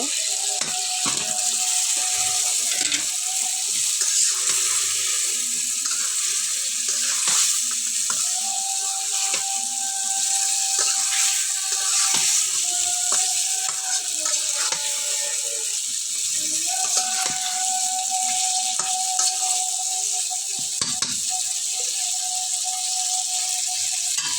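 Pieces of country chicken go into a pan of browned masala for a chicken bhuna, bringing a steady close sizzle with scraping stirs and occasional clatters, while a faint sustained tone drifts in the background.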